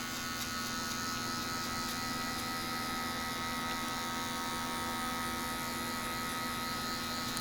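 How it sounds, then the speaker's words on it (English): An electric hair clipper fitted with a number 2 guard runs over the sides of a head during a high bald fade, giving a steady, close, unbroken buzz with no talking. "Clipper close with the number 2 guard right now over the sides of the head."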